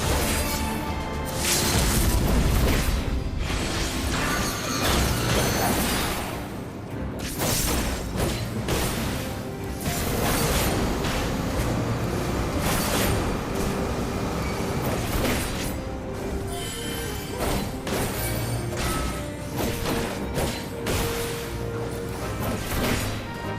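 Strafing-run explosions from Final Fantasy XIV: a continuous barrage of loud booms, crashes and whooshes that keeps up throughout at a steady intensity, with no talk.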